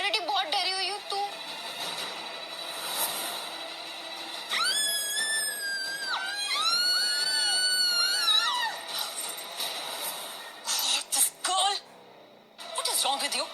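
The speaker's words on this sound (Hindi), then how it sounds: "चिल्ला क्यों रही थी तुम?" A woman screams in a sustained, pitched, wavering cry mixed with other voices in a tense indoor scene from a Hindi TV drama, loud and close, with talking before and after.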